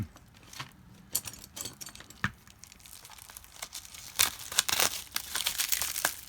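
Packing tape is ripped and peeled off a cardboard shipping box, giving a run of close, crackly tearing and crinkling bursts with short pauses between pulls and no talking.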